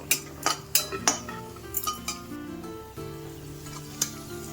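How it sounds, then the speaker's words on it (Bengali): Cashews and raisins frying in ghee in a pan, soft sizzling under sharp metallic clinks and scrapes of a spoon stirring against the pan, close and intermittent. "কাজু কিশমিশগুলো আমার সব লালচে করে ভাজা হয়ে গিয়েছে"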